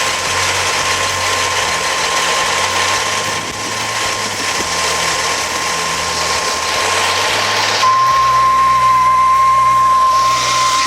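The uncovered air intake of a running 1963 Studebaker Avanti engine gives a loud, steady rushing whoosh with a droning engine hum beneath, close and continuous, shifting to a higher tone near the end.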